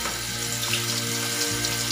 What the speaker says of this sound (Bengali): আমি যতগুলো কাবাব লাগবে সবগুলো ভেজে নিলাম।